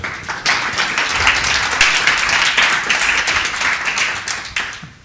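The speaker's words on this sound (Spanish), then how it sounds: "un aplauso para Sergio y os dejo con él" Applause from an audience welcoming a speaker named Sergio at a talk on archaeology, a steady dense clapping that holds for several seconds before tapering off at the end, with no voices over it.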